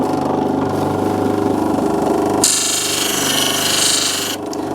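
Lapidary grinding wheels polish stone at 1200 grit with a loud, continuous whirring drone. The grind turns brighter and hissier midway as the stone presses against the wheel, then eases back near the end.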